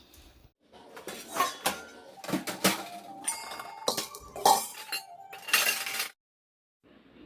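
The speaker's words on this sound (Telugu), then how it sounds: "సాంబార్ పెట్టే కన్నా ముందరే గిన్నెలన్నీ సర్దేసుకుంటున్నాను" Steel cooking vessels are put away on a kitchen countertop, with repeated clinks, clanks and scrapes of pots and pans in bursts, close and fairly loud, then a short pause before one last faint knock.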